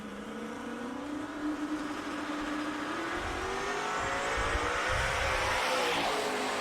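A race car on a drag strip accelerates hard in a single Friday-night run, its engine a loud, rising roar that climbs steadily in pitch as it pulls away down the track.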